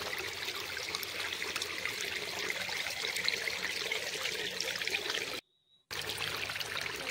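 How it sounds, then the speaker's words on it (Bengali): Water flows and babbles steadily outdoors, a continuous, moderately loud rushing trickle with a brief break near the end. "দেখো জলের কলরব এত সুন্দর লাগছে"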